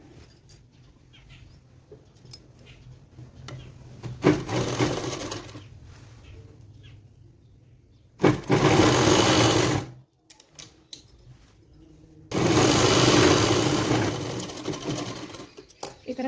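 A sewing machine stitching a petticoat, three separate bursts of rapid whirring needle clatter, close and loud, separated by quieter pauses with faint handling noises.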